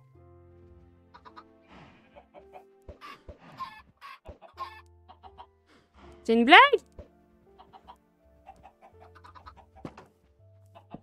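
Chickens cluck in short, scattered bursts inside a game base, with one louder squawk in the middle, while a voice speaks briefly over the quiet stretches.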